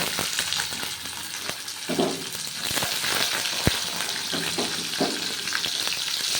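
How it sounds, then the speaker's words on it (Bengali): Whole chickpeas and chopped coconut fry in a pan for a vegetarian mixed-vegetable dish, with a steady close sizzle broken by several scraping stirs of the spoon. "এরপর ছোলা নারকেলটা একটু ভেজে নিচ্ছি"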